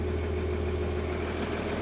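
A tractor engine idles steadily up close in the aftermath of a blizzard, a constant low rumble with a humming drone that never changes.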